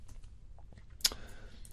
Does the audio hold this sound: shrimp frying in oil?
no